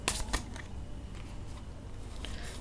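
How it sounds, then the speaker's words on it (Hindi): Tarot cards being shuffled by hand, a couple of sharp riffling bursts near the start followed by a soft, steady shuffling texture under a faint background hum. "मुझे टाइम दीजिए, मैं कार्ड्स को शफल कर लेती हूँ।"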